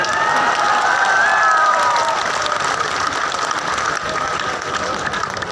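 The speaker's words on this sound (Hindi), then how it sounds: "थोड़ी जोर से ताली बजाए" A crowd at a live Teja Darshan festival stage program in Barmer applauds loudly and steadily, dense clapping mixed with some cheering voices filling the space throughout.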